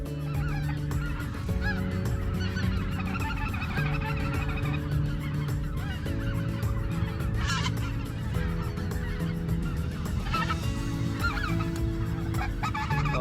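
Speckled-bellied geese honking in a steady, loud chorus during a hunt near Stuttgart, Arkansas, with many overlapping calls and no talk.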